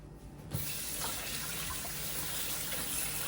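Tap water running over raspberries in a kitchen strainer, a faint trickle that switches on abruptly into a steady, close hiss of flowing water that continues evenly.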